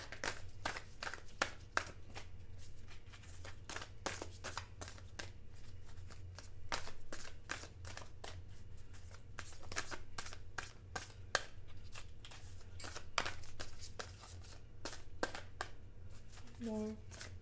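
Oracle message cards being shuffled by hand, a steady run of crisp riffling flicks and taps in quick bursts, close and fairly quiet over a low hum, with a voice briefly present.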